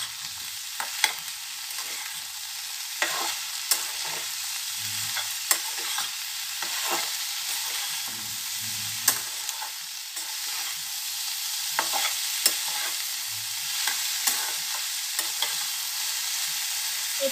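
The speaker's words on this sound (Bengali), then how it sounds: "হলুদ, লঙ্কা গুঁড়ো দিয়ে ভালো করে মিশিয়ে নিতে হবে" Turmeric and chili powder are stirred in a frying pan over a constant hiss of frying, with irregular spoon scrapes and taps standing out close and clear.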